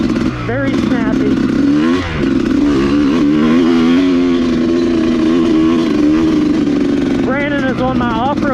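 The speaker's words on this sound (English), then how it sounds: "I'm on a stock motocross KX250 that I haven't ridden in 2 years" A stock KX250 motocross motorcycle ridden on wooded trails: a loud, close two-stroke engine revving up and down and changing pitch throughout, with a rider's voice over it.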